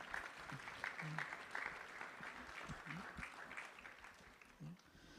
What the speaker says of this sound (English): Big round of applause to all these families